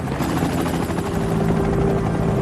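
A helicopter flies close by, its rotor producing a loud, continuous pulsing thrum with a steady whine throughout and no voices.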